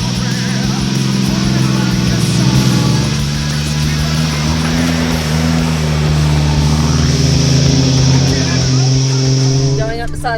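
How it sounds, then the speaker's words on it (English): Off-road car engine climbing a steep mountain track, a loud steady low hum with smooth rising and falling pitch, close up and continuous, with someone talking over it. "this car just glides up it like it's nothing. Listen to her purr."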